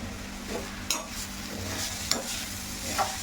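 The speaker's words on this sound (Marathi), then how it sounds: "ह्या कढईमध्ये तेलावर छानपैकी परतून घेणार आहोत" Grated sweet potato sizzling in oil in a wok as a spatula stirs and scrapes the pan, a few sharp clicks over a steady frying hiss.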